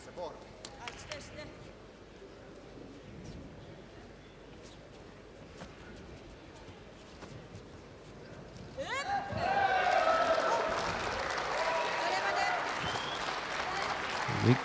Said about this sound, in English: Big cheer from mat one as Dordsurin throws Karakash for Ippon